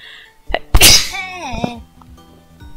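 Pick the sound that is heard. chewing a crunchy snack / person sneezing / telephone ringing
person sneezing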